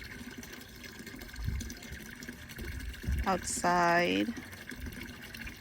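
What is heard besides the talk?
garden pond water flowing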